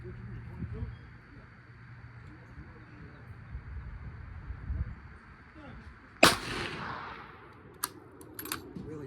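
A single loud rifle shot from a .358 Winchester fired at a chronograph, a sharp broadband crack partway through followed by a brief decaying echo, with a couple of faint clicks after and low outdoor background noise before it.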